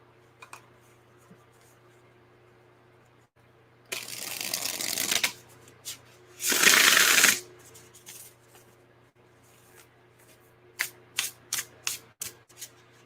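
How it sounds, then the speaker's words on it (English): Tarot cards shuffled quietly by hand in two bursts of riffling, the second louder, followed by a few soft taps and flicks as the deck is squared. "now I'm just shuffling quietly"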